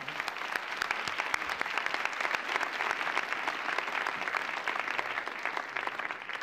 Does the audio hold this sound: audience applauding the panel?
yes